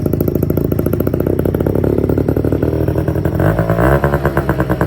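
A Honda AF35 ZX scooter, fitted with a stainless aftermarket muffler and no tuning, runs loud and close, buzzing steadily at idle and then rising briefly in pitch as the throttle is blipped near the end.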